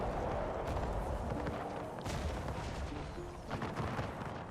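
Cannon artillery fire in the Empire 2 strategy game during heavy fighting: a dense, continuous battle roar of booming shots and crackling gunfire overlapping throughout.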